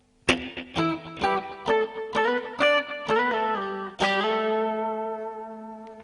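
Clean electric guitar plays a short phrase of plucked octave notes, each ringing briefly, ending on a sustained chord that fades slowly.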